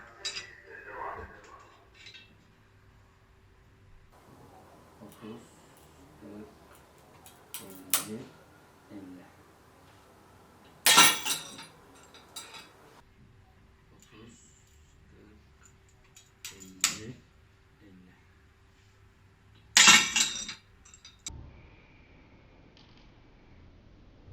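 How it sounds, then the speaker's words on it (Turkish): A vertically printed PLA part made from CCTREE filament on a CC3 printer snaps in a strength test, giving two sharp, loud cracks among scattered small clicks and creaks in a quiet room. "İşte parçanın kırıldığı yer."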